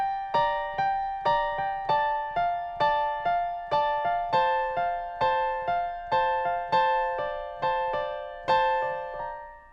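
Piano playing the background riff from the second chorus of a song: a steady run of evenly spaced, ringing notes, each struck clearly and left to decay, repeating for about ten seconds with no voices.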